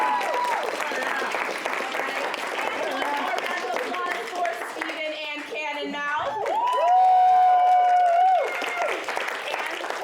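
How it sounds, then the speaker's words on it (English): An audience at a live school morning show finale applauds and cheers loudly, with whoops and shouts rising over sustained clapping and talk mixed in throughout. "Can we get a round of applause for Dina?"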